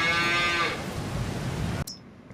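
A cow moos in Farming Simulator 22 on an old Polish farm, one long, loud, close lowing call that tails off, followed by quieter farmyard ambience and a sudden cut to near silence.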